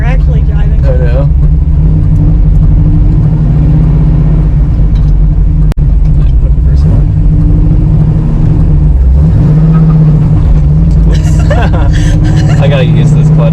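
A 1973 Camaro Z28 on its first drive back on the road after 25 years gives a loud, steady interior engine drone with road noise. The note swells briefly under acceleration, and people talk over it throughout.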